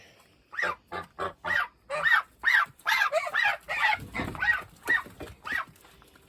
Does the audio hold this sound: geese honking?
yes